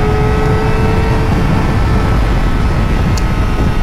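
Modenas ZX-25R motorcycle engine held at high RPM, a loud, steady, continuous drone with no breaks, close and dominant throughout.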